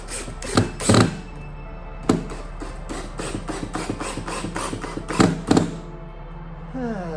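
Clamps being cranked tight on upper cabinets in a van build, with a series of sharp clicks and knocks, several hard thunks and quick ratcheting taps close by.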